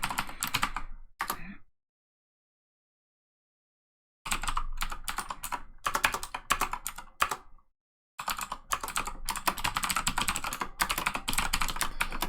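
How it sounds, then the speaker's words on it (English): A loud computer keyboard clacks in fast, dense bursts of typing broken by a couple of silent pauses, close and dry. "Sorry if my keyboard sounds very loud."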